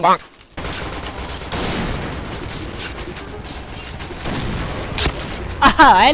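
Sustained rapid gunfire rattles loudly through an online shooter game in bursts, with a blast near the end, while a player talks excitedly over it.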